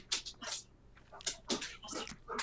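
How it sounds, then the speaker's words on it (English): Dogs being fed make rattling, clattering sounds close by with whimpers and snuffles, busy bursts throughout against a low hum. "The dogs are being fed."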